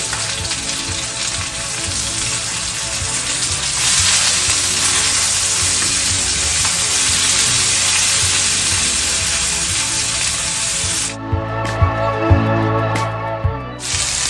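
Steady loud sizzling of lamb chops frying in a hot pan, broken near the end by a few clattering knocks.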